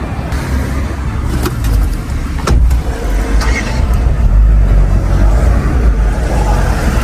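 An old Mercedes car drives through the streets of Rome, its engine and road noise loud and steady from inside or right beside the car, with occasional clicks and brief louder swells.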